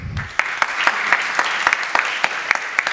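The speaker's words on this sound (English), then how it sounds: "So a big round of applause to them." Steady applause from a crowd at a startup panel event, many hands clapping together with a few sharper claps standing out, filling the whole stretch.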